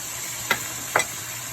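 Tomatoes and vinegar are stirred in a pan, giving two brief, close scraping strokes about half a second apart over a faint background hiss.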